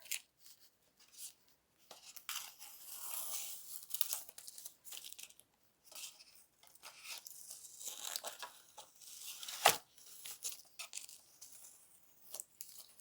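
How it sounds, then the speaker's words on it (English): Masking tape is peeled off paper in a mixed media sunflower painting, giving quiet, close tearing and crinkling sounds in short irregular bursts separated by pauses, with one sharper rip near the end. "this is the part people like to do, where you're taking the tape off"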